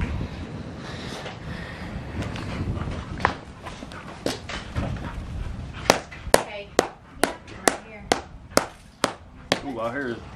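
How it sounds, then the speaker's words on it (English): Hammer knocking the horns off a boiled Catalina goat skull outdoors in a driveway: a run of sharp, close metallic-bony knocks that quicken into a steady series of hard blows, with wind and some talk in the background. "I don't think she likes that hammer."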